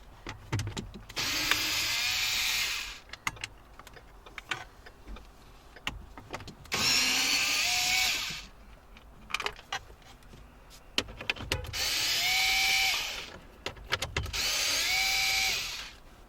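A power tool whirs in three sustained bursts as it backs out 7mm screws from the dash trim of a 2016 Ford Mustang, with clicks and handling noises between the bursts, close and loud.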